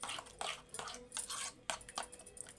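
Egg and paneer omelette mixture stirred in a bowl, soft repeated clinks and wet squishing strokes in a steady rhythm, close and quiet with no talking.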